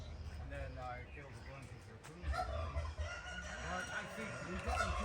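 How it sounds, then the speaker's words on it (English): Many chickens cluck and squawk in a busy chorus, with a rooster crowing among them, turkeys nearby, and people talking close by. "Look at these chickens in here."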